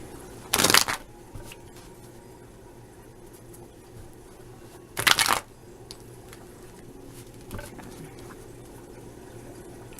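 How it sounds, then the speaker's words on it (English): Two short bursts of tarot cards being riffle-shuffled, a few seconds apart, with quiet rustling and small handling noises in between. "Shuffling on camera."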